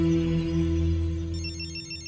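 A telephone starts ringing with rapid trilling electronic pulses, entering partway through over a low humming musical drone, in a scene from a Hindi comedy film.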